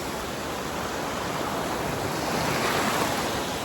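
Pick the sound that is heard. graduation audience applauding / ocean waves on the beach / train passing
ocean waves on the beach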